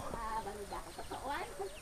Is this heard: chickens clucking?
yes